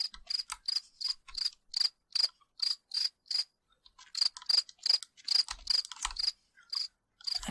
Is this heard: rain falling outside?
no